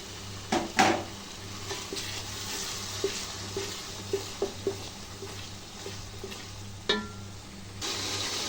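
Beef and spices fry in a pan for a biryani, a quiet steady sizzle broken by scattered clinks and scrapes of a utensil against the pan, close, no talk.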